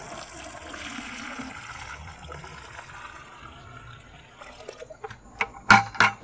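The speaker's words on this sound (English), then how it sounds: "I'll go ahead and pour my tea into that filter to get the castings out" Worm tea being poured through a filter into a 5-gallon bucket, a steady, soft watery wash that gives way near the end to a few sharp, louder splashes and knocks close by.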